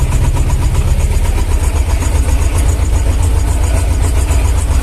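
A T-25 tractor engine runs steadily and loudly up close, a continuous low rumbling drone with no pauses, hauling a trailer of corn.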